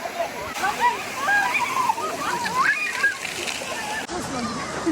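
Splashing city fountain outside the Voronezh concert hall, a constant watery rush close by while people talk over it, including a voice.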